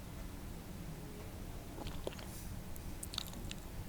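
Soft nibbling and chewing of a gingerbread-house treat, close and quiet, with faint crunchy bites and small moist clicks scattered over a low steady background hush, no talking.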